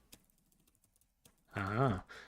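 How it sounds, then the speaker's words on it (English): Sparse, faint computer keyboard taps click in short bursts during a live online writing lesson, and then a voice speaks over the final second. "my typing has broken down"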